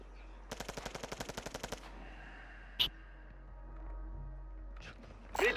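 Rapid automatic gunfire hitting the player in Call of Duty: Modern Warfare II, a tight run of about a dozen evenly spaced shots, followed by a couple of isolated sharp cracks against quiet game ambience.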